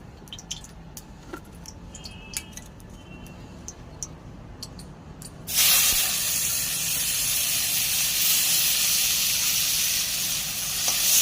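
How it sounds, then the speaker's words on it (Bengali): Prawns go into hot oil halfway through: after a quiet stretch of faint clicks, a loud, dense sizzling hiss erupts and carries on steadily to the end, close to the pan and without talk. "হয়ে গেছে মাছ ভাজা।"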